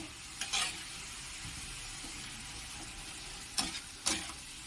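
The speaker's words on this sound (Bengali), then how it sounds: "এই ধনা পাতাটা দিয়ে ভালো করে মাখিয়ে নেব" Ground coriander-leaf paste mixed by hand for a sweet, sour and spicy pickle: quiet, soft squelching with a few brief wet bursts over a faint steady hiss, no talking.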